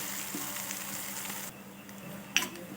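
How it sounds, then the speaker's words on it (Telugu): Chopped onions and curry leaves fry in hot oil for a steady, close sizzle, with a brief louder crackle near the end and no voices. "ఇలా చిన్న చిన్నగా కట్ చేసుకున్న ఉల్లిపాయ ముక్కల్ని వేసుకుందాము కొంచెం కరివేపాకును వేసుకోవాలి కొంచెం దూరగా వేగనిద్దాం"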